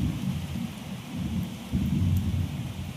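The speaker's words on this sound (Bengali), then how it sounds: "বৃষ্টি হচ্ছে ভালোই, আকাশে ভালোই বিদ্যুৎ চমকাচ্ছে" Heavy rain pours steadily during a thunderstorm, with a deep rolling rumble of thunder beneath the dense hiss of the downpour, loud and close throughout.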